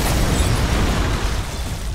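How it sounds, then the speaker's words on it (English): A tower crumbling in the Dota 2 game, heard as a loud, dense rumbling burst with heavy low-end crashing that holds steady for about two seconds and gives no spoken voice over it. "Dire's bottom tower has fallen"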